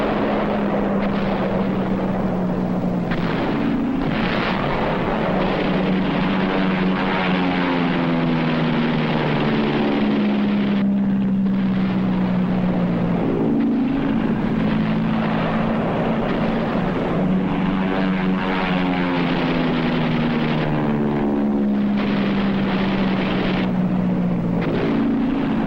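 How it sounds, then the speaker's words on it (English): Marine fighter planes flying on a Korean War airstrike heard in old newsreel sound: a loud, continuous propeller engine drone with wavering pitch as aircraft pass, steady and dominant throughout. "Marine fighter planes pound Red positions with napalm"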